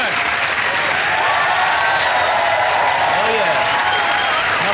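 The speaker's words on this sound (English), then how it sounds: "keep that applause going" Sustained, loud studio audience applause at a comedy television taping, a thick, unbroken wash of many hands clapping close by for the whole stretch.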